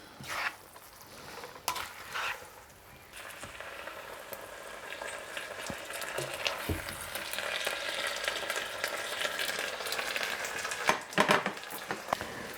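A whole-food spring stir fry with buckwheat is folded and stirred in a hot pan, its sizzle building steadily under a utensil that scrapes and clinks, ending in a brief louder clatter.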